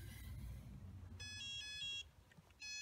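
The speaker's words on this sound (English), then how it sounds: "We have the alarm, and there is no RX connection." A Flysky FS-i6S radio transmitter sounds a lost-receiver alarm after the quadcopter is unplugged: a short burst of bright electronic tones, a pause, then another burst, over low background noise.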